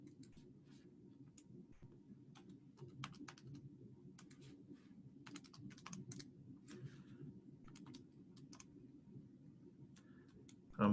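Typing on a computer keyboard in quiet, irregular bursts of soft clicks and taps over a low hum, ending in a louder knock.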